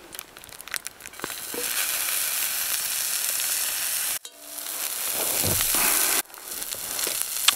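Shallots sautéing in butter in a cast iron pan on a wood stove, a loud continuous close sizzle that drops out briefly twice before surging back, with occasional crackles.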